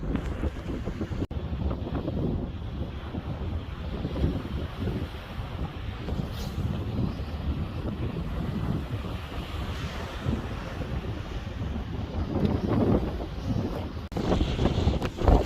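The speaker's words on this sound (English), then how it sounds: "As you can hear, the weather. Very sorry about the wind." Strong wind on the Bristol Channel coast buffeting the microphone with a constant roar and gusts, water and surf faintly beneath, no voices.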